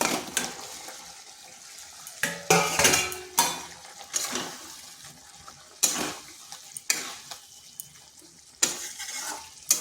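Potatoes and pointed gourd fry in a pan for a vegetarian curry, a soft steady sizzle broken by repeated loud scraping bursts as a spatula stirs them against the metal, close up with no talking.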